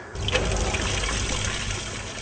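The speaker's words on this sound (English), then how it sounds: "The solar-powered pumps bring up cold water from a depth of 3 meters." Water gushing steadily from a solar-powered pump drawing cold water up from a depth of 3 meters, a constant close rushing splash with no pause and no voices.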